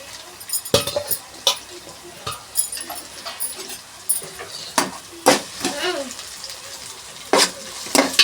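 Bitter gourd pieces with onion fry in a pan, giving a close, low sizzle broken by sharp irregular clatters of stirring and pan knocks, with no speech.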